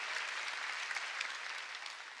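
Church audience clapping during a sermon, a steady, dense round of applause from many hands, fairly close and even throughout with no voices over it.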